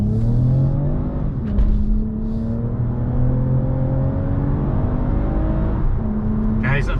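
A modified Toyota Camry XSE V6 with aftermarket exhaust accelerates hard, its engine note loud and close and climbing through gear changes, with short pauses between gears and a brief bump in the middle.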